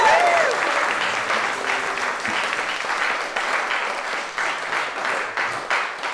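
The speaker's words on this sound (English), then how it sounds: "Can we just have a really loud clap from everyone" A live audience claps loudly and steadily for about six seconds at a folk music event, the dense applause close and continuous without a break.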